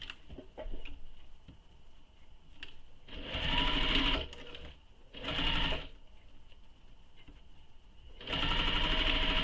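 Sewing machine stitching a fabric mini messenger bag, three bursts of fast, close stitching separated by quieter handling and a steady faint hum.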